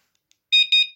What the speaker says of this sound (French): En mode carillon, ça ferait un petit bip bip.